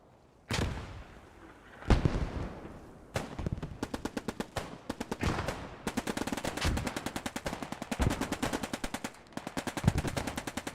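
Rapid bursts of Sten submachine gun fire, single Enfield rifle shots and grenade and satchel blasts crackle through a World War II battle in Post Scriptum, Operation Market Garden, with dense repeated volleys building into sustained exchanges.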